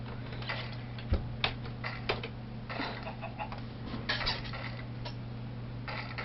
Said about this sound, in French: Désolé hein, pour les bruits de ma chaise.